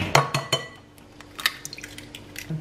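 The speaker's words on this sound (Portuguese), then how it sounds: "Vou começar misturando 2 ovos" Two eggs being mixed in a bowl for a chocolate cake made in a pan: a few sharp, close clinks and taps of utensil against dish, spaced irregularly and fairly quiet, with no talking.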